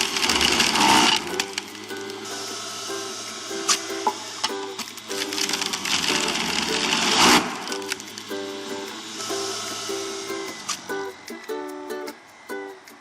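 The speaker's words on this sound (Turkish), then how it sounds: "Daha sonra katı meyve sıkacağımı çalıştırıyorum. Ve pancarlarımı içine atıyorum." An electric juicer grinds beetroot chunks as they drop in, giving a loud, harsh motor whine with crunching bursts and cracks as pieces are fed, close and continuous for about thirteen seconds without talking.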